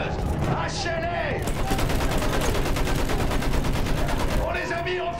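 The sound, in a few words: machine gun fire in video game Battlefield 1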